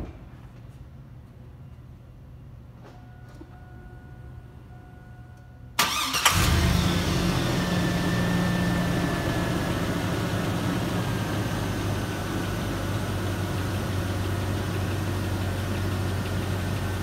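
A 5.3L LS V8 with low oil pressure cranks and fires after a quiet stretch, then settles into a steady, loud idle that carries on to the end.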